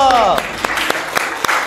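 A small group of students in a classroom claps for a quiz winner, a handful of sharp, irregular claps over a brief voice at the start.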